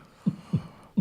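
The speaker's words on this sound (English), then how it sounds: "That heartbeat in the corner is really not helping." Heartbeat sound effect heard as three deep, thudding low pulses at a steady rhythm, fairly close and moderately loud, with no talk over it.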